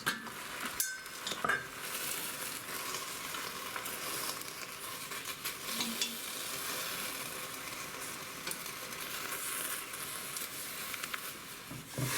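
Spinach stir-fried in a pan for a simple Japanese meal gives a steady loud sizzle with intermittent scraping and stirring clinks across the whole stretch.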